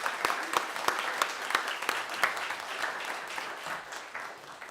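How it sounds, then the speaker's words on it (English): Audience clapping at an annual meeting, a steady round of applause from a moderate crowd, even and sustained before gradually thinning out. "And a round of applause."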